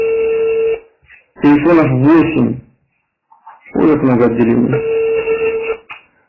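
Unanswered telephone ringback tones sound during a sales call, a long steady tone before and after a stretch of talking, with a brief dial signal in between.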